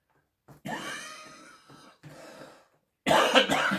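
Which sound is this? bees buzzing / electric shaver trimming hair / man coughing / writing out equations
man coughing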